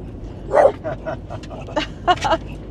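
A few short, sharp dog barks and yips in a village in Alsace, France, moderately near, scattered irregularly over a low background murmur.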